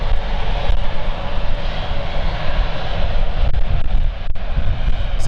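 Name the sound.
Embraer E190-100LR jet airliner at London City Airport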